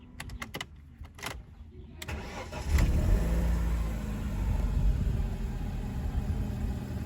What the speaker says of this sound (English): Just gonna try and start the car.